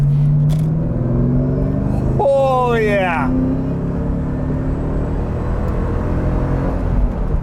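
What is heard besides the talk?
Ford Mustang SVT Cobra Terminator driving on road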